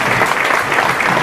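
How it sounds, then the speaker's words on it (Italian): Steady applause from a crowd, dense and loud, with continuous clapping throughout and no voices standing out. "lo accogliamo con un applauso"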